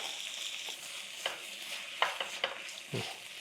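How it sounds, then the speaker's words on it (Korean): Vegetables with tofu noodles and pesto stir-fried in a pan, soft steady sizzle with a few sharp scraping strokes of the utensil, close but fairly quiet, no talk. "그리고 한 번 더 볶아줄 건데"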